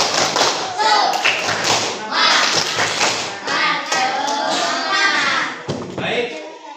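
A primary school class performs a rhythmic spirit clap in the classroom, many hands slapping in bursts with children's voices and shouts mixed throughout.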